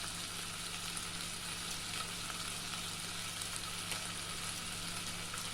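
Food sautéing in a pot for a seafood pumpkin soup, a steady, even sizzle and frying hiss that holds at constant loudness throughout with no talking.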